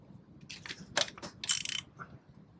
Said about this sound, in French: Toujours desserrer avant de soulever la roue